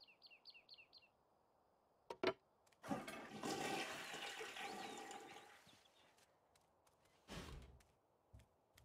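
A toilet flushing in The Sims 3 as a character cleans it, a loud rushing swirl of water lasting several seconds, framed by brief game chimes and a few sharp clicks and knocks.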